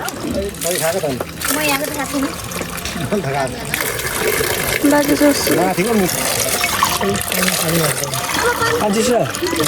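Cold drinking water piped from the forest runs from a tap into a container at Shram Sanskriti Park in Dharan, a continuous splashing gush heard under steady nearby talking voices.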